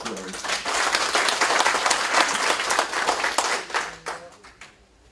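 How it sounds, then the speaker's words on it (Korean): Hearty applause from an audience at a Korean panel discussion on truck drivers' livelihood rights, dense and sustained clapping that gradually tapers off at the end. "힘찬 박수로 듣도록 하겠습니다."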